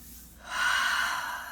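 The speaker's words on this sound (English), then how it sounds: "Breathing that in." A single slow, deep breath drawn in through the nose and mouth, soft and close, rising over about a second and trailing off, with no voices over it.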